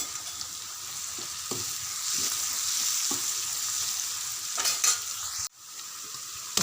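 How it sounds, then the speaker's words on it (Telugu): Ginger garlic paste with turmeric frying in a pan for chicken curry, a continuous sizzle under repeated scraping stirs of a spoon, ending with a sharp knock and a fresh burst of sizzling. "అల్లం వెల్లిపాయ పేస్ట్ పచ్చి వాసన పోయేదాకా మగ్గనివ్వాలి"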